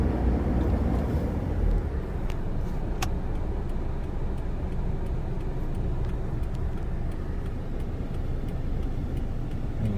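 A vehicle with a driver and a passenger riding in the back travels a rural village road in Thailand, giving a steady, close engine and tyre-road roar that holds throughout with no talking.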